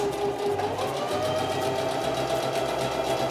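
Sewing machine running steadily at close range, stitching back and forth a few times over an elastic band at the corner of a fabric face mask with a filter pocket; continuous whirring motor with rapid needle rhythm, no talk.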